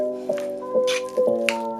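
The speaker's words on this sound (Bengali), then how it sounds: "আলুটা ভালোভাবে মেখে নিচ্ছি সব উপকরণ দিয়ে।" Boiled potato is mashed by hand with spices and lemon juice, giving a few soft, wet squishes over a steady background tone.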